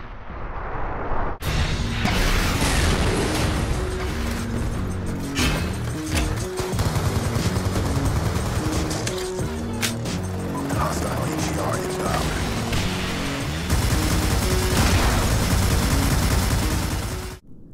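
Gunfire and launcher blasts from Black Ops 2 multiplayer rumble continuously and loudly, with dense bursts, heavy booms and a steady roar of battle, and a voice talking over it.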